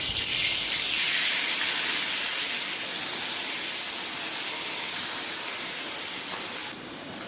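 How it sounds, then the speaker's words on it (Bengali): Fish fries in about two tablespoons of hot oil in a pan, giving a loud, continuous sizzling hiss that holds steady throughout. The hiss drops slightly at the very end, and no one speaks. "মাছ এক সাইড ভাজা হয়ে গেছে"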